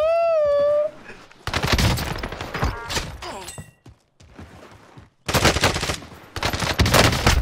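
The Marco 5 SMG in Warzone fires several loud, fast-rattling bursts, separated by short pauses, after a brief rising whistle-like tone at the start.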